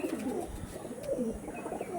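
An adult flying pigeon cooing softly in repeated low, rolling phrases close by, with faint background noise and no talking.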